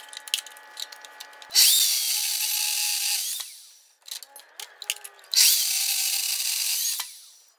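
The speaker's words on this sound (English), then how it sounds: "So now I'm just going to cut a bit of bar to go through them holes to make sure they line up properly." A steel round bar is cut with a power tool during a toe tip bucket repair, giving two sustained bright, grinding cuts of about two seconds each, separated by quieter clinks and handling knocks close to the listener.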